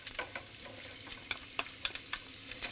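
Half a cup of chopped medium onion sizzles gently in unsalted butter in a pan, a soft steady frying hiss with scattered crackles and pops.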